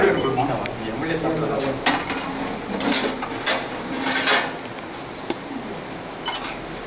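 Dishes being washed: metal plates and cutlery clink and clatter in irregular bursts, with scraping and splashing between the knocks, while voices talk in the background.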